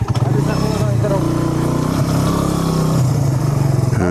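Motorcycle engine running steadily near the rider on a long mountain road trip from Swat to Lahore, a loud continuous rumble with slight revving, while people talk over it.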